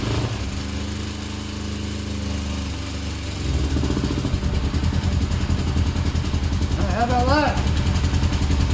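A 1990 Yamaha FZR600 barn-find motorcycle sputters as it is cranked, then catches and settles into a loud, rough, uneven idle close by, while someone speaks briefly over it.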